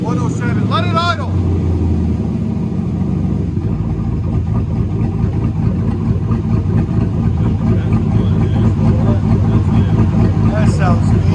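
A cammed Chevrolet Silverado with an aftermarket muffler idles nearby, a loud, lumpy, rumbling burble that holds steady throughout while people talk over it.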